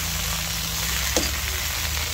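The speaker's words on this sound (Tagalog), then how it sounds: "Stir fry" Kangkong (water spinach) leaves stir-fry in a hot pan, a steady loud sizzle with a brief clatter of the utensil midway and no talk.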